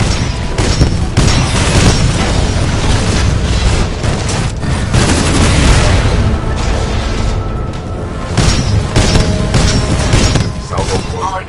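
Titanfall 2's Salvo Core missile barrage pounds away, a dense, loud stream of booming explosions and bursts that rolls on nearly continuously with brief dips.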